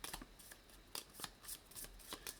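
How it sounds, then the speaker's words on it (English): Valheim board game cards being shuffled by hand, a run of crisp riffling bursts in an uneven rhythm, close and clear with no talking. "then you are going to shuffle up all the level 2s"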